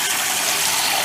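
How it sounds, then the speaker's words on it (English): Water gushes into a toilet tank refilling after a Fluidmaster all-in-one repair kit install, a close, steady hissing rush with faint mechanical rattling from the fill valve. "Now the water's coming out of the bottom instead of up here, but it's coming through the tube too. It is filling up"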